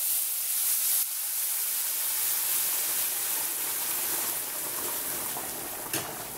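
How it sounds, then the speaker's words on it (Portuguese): Water poured into a hot pan of sautéed rice sets off a loud, close, continuous steaming hiss and sizzle that slowly eases over several seconds. "Agora eu vou colocar a água,"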